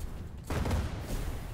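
Ship weapons in Cloud Pirates fire in a sudden, dense volley of rapid blasts that swells loudly and then rumbles on in the airship battle.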